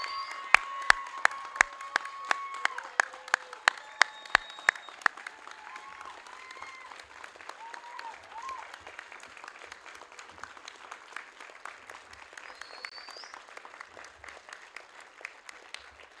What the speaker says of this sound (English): Would you guys please join me in a round of applause again for the graduates of Bosun's Mate Class 2505